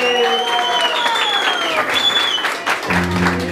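Audience clapping and cheering at a birthday mariachi performance, a sustained burst of applause with whistle-like tones and a voice over it, ending as a musical chord begins.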